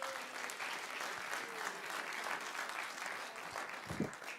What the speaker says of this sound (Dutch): Nog één keer even een groot applaus voor de lijsttrekkers.